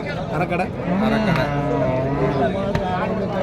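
A pregnant cow at a cattle market in Karimangalam, Dharmapuri district, lets out a drawn-out, loud moo close by, set against steady market background noise.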